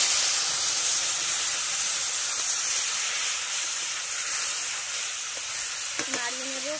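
Small mourala fish fry in hot oil in a village kitchen, giving a loud, continuous crackling sizzle throughout, with a brief voice near the end.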